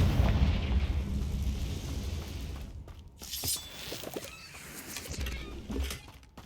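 Confringo fire spell exploding in Hogwarts Legacy: a loud rumbling blast that swells, cuts briefly, then crackles and booms again with scattered bursts, dense and close throughout.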